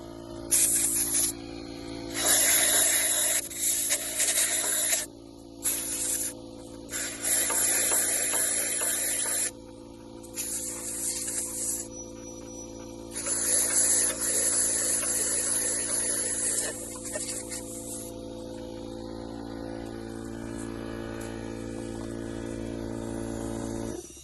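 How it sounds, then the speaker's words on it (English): Compressed air hisses in loud, repeated bursts as an air compressor blows dust out of holes drilled in a concrete bulkhead, with short pauses between blasts and a steady machine hum underneath. "he's going to go back through with the air compressor, and he's going to make sure that all the dust is blown out of the hole"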